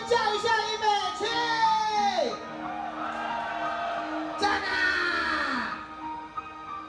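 A crowd at a band's year-end company banquet performance in Tainan screams and whoops in long rising and falling bursts, loud and close, with shouts layered over a steady din.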